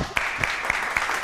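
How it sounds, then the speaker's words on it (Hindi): Studio audience clapping on a Pakistani TV game show, a dense steady wash of applause with light rhythmic accents, fairly loud and without talk. "तालियां।"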